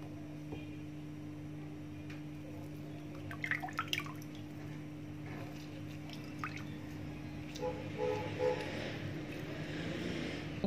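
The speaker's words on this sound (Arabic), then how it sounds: "هنعصر الليمون عليها بالشكل ده كده" A whole lemon squeezed by hand, with faint drips and squishy wet sounds of juice falling, brief and soft over a steady low hum in a quiet kitchen.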